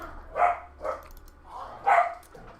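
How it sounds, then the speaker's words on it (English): Someone roughhouses with a dog, which lets out several short playful barks and yips in an irregular rhythm, moderately close against a quiet room. "Somebody's wrestling with the dog, it looks like, or sounds like."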